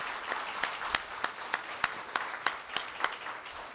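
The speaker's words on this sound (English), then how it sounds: "Just one final big round of applause for all the expertise." Audience applause at the close of a lecture in a university hall, a steady wash of many hands with sharp individual claps standing out at a regular pace, moderately distant and fairly soft.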